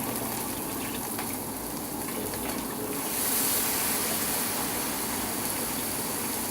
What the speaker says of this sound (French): On va mettre un peu d'eau chaude.